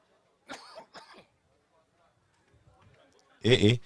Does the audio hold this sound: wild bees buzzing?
no